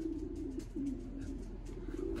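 A racing pigeon coos softly near a loft, low repeated coo phrases over faint background noise.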